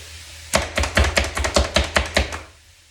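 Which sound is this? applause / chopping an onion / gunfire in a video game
chopping an onion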